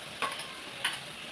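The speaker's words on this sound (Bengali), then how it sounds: "তেল গরম হয়ে গেছে, মাংস দিলাম, নেড়ে নেব ভালো করে" Chicken pieces frying in hot white cooking oil with garlic, stirred in the pan: a soft steady sizzle broken by two brief scraping stir sounds, close and fairly quiet.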